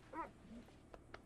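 Dog in the Red Dead Redemption 2 video game giving a brief, faint whimpering whine followed by a couple of soft short sounds, heard quietly over low background game ambience.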